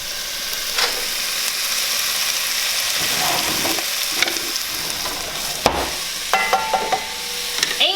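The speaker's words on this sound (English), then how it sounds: "Just gonna throw that in there and get that all nice and brown and cooked and tender" Chopped ham browning in a hot pan for collard and turnip greens, a constant sizzle with scattered clicks and scrapes of stirring, no voices.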